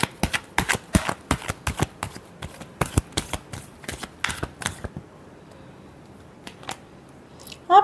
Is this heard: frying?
no